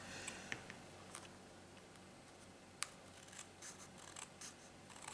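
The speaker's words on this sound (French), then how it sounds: "Et on va venir couper ici le surplus" Scissors snip away excess card in a quiet run of small crisp cuts and clicks, close up with faint rustling and no voices.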